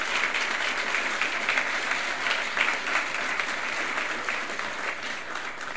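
An audience at a 2022 Wall Fellows induction ceremony gives sustained applause for the program's alumni. The clapping is steady and even from start to finish, with no talk over it.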